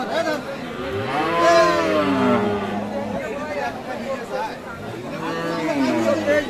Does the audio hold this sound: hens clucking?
no